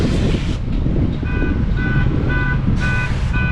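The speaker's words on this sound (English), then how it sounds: "There's always an alarm going off when you do these." A car alarm at a Dodge dealership lot in Spokane Valley sounds in repeated short electronic chirps under steady wind noise and outdoor road rumble, with no talking.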